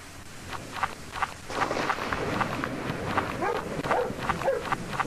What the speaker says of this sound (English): I'm guessing every time the dog barks, he's close and by